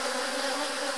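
Honey bees inside a hive buzz at a raised pitch, a steady, dense, close droning hum with no voices over it.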